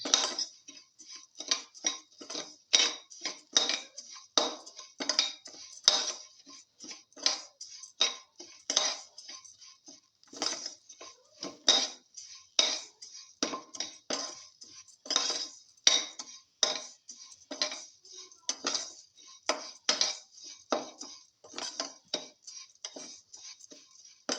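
Utensils stir pumpkin pieces with salt in a metal pot, producing a steady run of rapid clinks and scrapes, close and clear with no talking.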